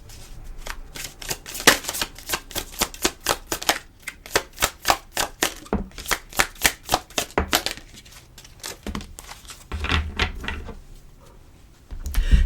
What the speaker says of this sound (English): Let's pull some cards on this.